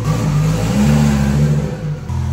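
A wrecked Lamborghini engine runs loud and close, holding a steady rumbling idle that swells into a throaty rev about a third of the way in, then settles and dips briefly near the end, with no talk over it.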